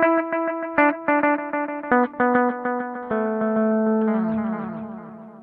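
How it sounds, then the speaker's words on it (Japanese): Guitar run through a BOSS DD-20 Giga Delay in tape mode, a repeated chord pattern bouncing in rhythmic delayed repeats, then ringing out and fading toward the end; loud, with no voices. "こんな感じで、リズミカルな音になります"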